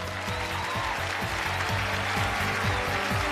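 A studio audience at a television relationship show clapping to welcome a guest, dense steady applause filling the whole stretch with background music beneath it.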